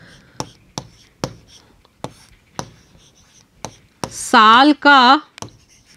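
Chalk or marker taps and strokes on a classroom board during a Class 3 maths lesson on the months, a series of sharp, evenly spaced clicks with a teacher speaking briefly in between.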